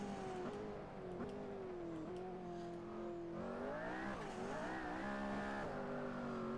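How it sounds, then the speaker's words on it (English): A McLaren P1 engine revs and shifts through corners in Assetto Corsa, a steady droning tone rising and falling with throttle, turbo spooling audible, tires squealing faintly as the car slides, heard alone and close. "You can hear that turbo spooling up"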